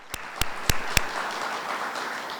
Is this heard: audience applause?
yes